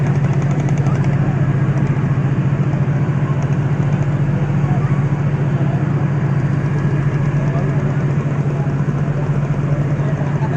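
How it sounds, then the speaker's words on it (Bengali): Steady low engine drone of a river ferry launch under way, loud and continuous throughout with a constant hum and broadband rumble, no speech. "আমরা এখন লঞ্চে করে যাচ্ছি।"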